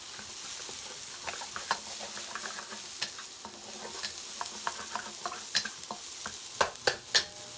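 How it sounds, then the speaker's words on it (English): Garlic and ginger sizzle in a hot pan while a utensil stirs and scrapes, giving irregular clicks and taps over a continuous frying hiss that grow sharper and louder toward the end. "I'm going to go in with the garlic and the ginger until it gets fragrant. Give it a stir."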